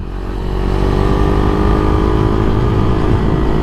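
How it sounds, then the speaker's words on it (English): A 2022 Husqvarna Vitpilen 401 with a handlebar mod is ridden, and its single-cylinder engine drones steadily and loudly close up, with wind rush and no speech. "2022 Husqvarna Vitpilen, huh? With the handlebar mod."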